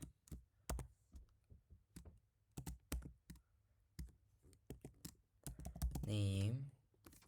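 Code being typed on a computer keyboard, with irregular clusters of crisp key clicks and pauses between, close and fairly quiet, ending in a brief tonal sound.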